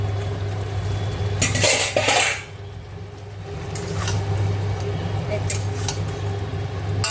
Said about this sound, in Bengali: এবার আমি খুলি ঢাকাটা